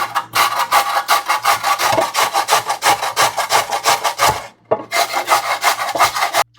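Raw potatoes being grated by hand for hash browns, a rapid run of rasping strokes close up, pausing briefly before the scraping resumes.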